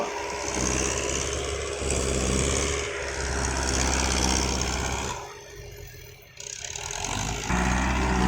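A 45-horsepower farm tractor ploughs heavy clay soil, its engine a steady broadband drone with a low throbbing hum that dips briefly before returning at full strength, heard fairly close with no talk.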